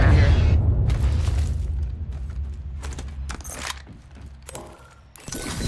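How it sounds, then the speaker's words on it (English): Hold door mechanism opening in the video game Apex Legends: a heavy mechanical rumble with grinding and clanking, joined by sharp clicks and bursts over a steady low drone. "Opening the hold."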